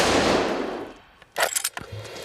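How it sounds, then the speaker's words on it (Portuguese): Rapid gunfire from a test shooting at a bulletproof vest plate built from high-impact material, heard as a quick cluster of sharp, loud reports after a brief lull, with a short low thud at the end. "A placa levou 18 tiros."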